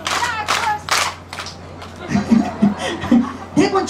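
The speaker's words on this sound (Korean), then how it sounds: "다 같이 박수 세 번 시작." An audience at an outdoor pumba (Korean street performance) show at the Yeongcheon herbal medicine festival claps together in a few short, sharp group claps in the second half, after a stretch of talk and chuckling.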